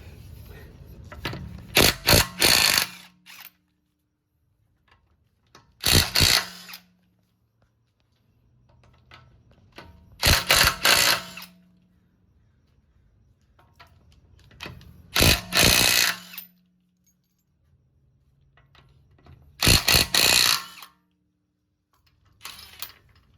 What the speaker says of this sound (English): you have a impact gun, because this is very powerful. It can loosen all of these lug nuts when it's in the air